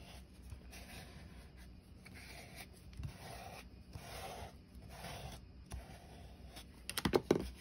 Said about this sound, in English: Now we'll just smooth this down.